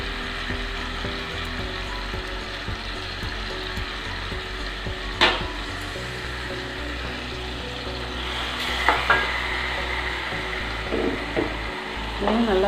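Ground masala paste fries in a pan for a fish curry, giving a constant sizzling hiss with a few sharp clicks and utensil scrapes near the end, no speech.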